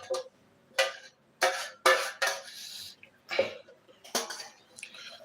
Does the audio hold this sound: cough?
yes